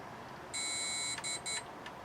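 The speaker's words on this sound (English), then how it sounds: "What do those beeps mean?" A desktop PC fitted with a new RTX 3090 graphics card, replacing a 2080 Ti, emits a long shrill electronic beep during boot, followed by two shorter ones, clear over a soft steady fan hum.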